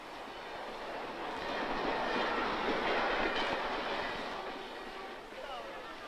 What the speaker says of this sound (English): The railway station, half an hour from Peking.